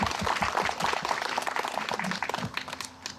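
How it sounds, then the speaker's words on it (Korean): An outdoor crowd at a memorial mass for the farmer Baek Nam-gi at the Mangwol-dong May 18th cemetery in Gwangju gives a burst of applause, dense clapping that thins and fades over a few seconds. "감사의 박수 한번 쳐드릴까요?"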